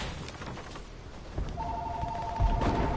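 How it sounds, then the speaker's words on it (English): A phone rings with an incoming call during an online shooter game. A steady electronic ring tone starts partway through and sits over clattering gameplay noise with scattered thumps. "Why am I keep getting phone calls when I'm not going to answer them?"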